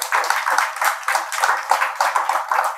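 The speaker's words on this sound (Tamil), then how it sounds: "அவரை சார்ந்த அனைவருக்கும் நம்ம கைத்தட்டி மகிழ்ந்து வாழ்த்து தெரிவிக்க வேண்டும்" Hands clap together in a lively, pulsing rhythm as an audience at a health talk applauds, fairly close and loud with no speech over it.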